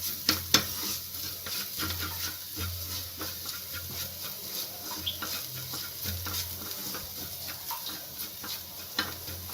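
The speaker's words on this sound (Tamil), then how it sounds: "இதையும் நல்லா வதக்கி விட்டுறலாம். பச்சை வாசனை போக ஒரு செகண்டுக்கு நல்லா வதக்கிக்கலாம்." Ingredients sautéing in a pan for a Tamil potato and maida tiffin dish, with a steady sizzle broken by repeated scraping stirs and spatula taps, sounding close with no talking.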